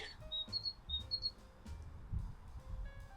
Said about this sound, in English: What is tweeting?